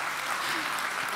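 Audience clapping at a WordCamp Europe conference talk, a dense steady patter of many hands filling the hall, moderately loud and continuous with no pause.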